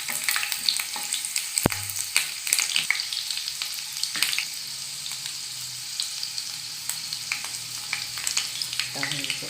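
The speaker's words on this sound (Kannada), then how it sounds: "ಬೆಳ್ಳುಳ್ಳಿ ಕೆಂಪು ಹುರ್ಕೊಳ್ಳೋಣ." Garlic fries in oil in a pan for gooseberry garlic chitranna rice, a bright continuous sizzle with occasional spatula clacks and scrapes as it is stirred, close and clear, no voices.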